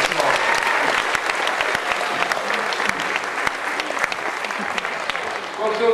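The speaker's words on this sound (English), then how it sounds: "Everybody give him a big round of applause." Audience applause at a magician's stage show, dense and steady with sharp individual claps standing out, holding level for several seconds before tailing slightly at the end.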